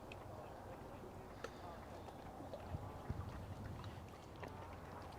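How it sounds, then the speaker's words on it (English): Steady wind blows across a fishing lake at Jubilee Pools, making a low, continuous rushing rumble with faint gusty buffeting against the microphone throughout. "Wind's picked right up though, it's coming right in."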